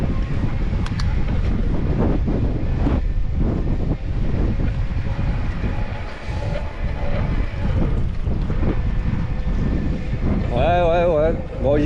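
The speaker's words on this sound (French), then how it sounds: "Ouais, voilà, vent de face." Strong headwind buffets the microphone while someone rides an electric mountain bike, a loud constant roaring rumble with gusty surges throughout, and a voice speaking under the wind.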